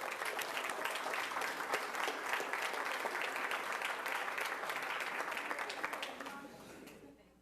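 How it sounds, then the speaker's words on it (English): Audience at a school district board meeting applauds two honorees, a sustained, even round of clapping that holds steady for about six seconds before fading out at the end. "Let's give them a round of applause"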